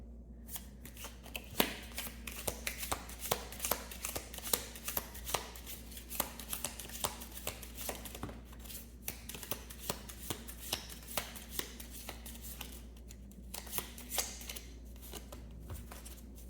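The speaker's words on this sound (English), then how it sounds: "I'm just going to shuffle again" Tarot cards being shuffled by hand, close and quiet, in a run of quick riffles and soft slaps that repeat with brief pauses and no talking.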